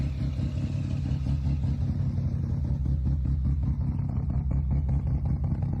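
A right-hand drive car's engine runs steadily nearby, a deep, throbbing low rumble with a faint rhythmic clatter, constant throughout and without speech.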